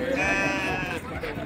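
A goat bleats loudly and close in a long wavering cry at a busy livestock market for Eid, with crowd noise and voices of people talking all around it.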